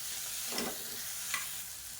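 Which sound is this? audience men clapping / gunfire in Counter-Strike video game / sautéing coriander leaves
sautéing coriander leaves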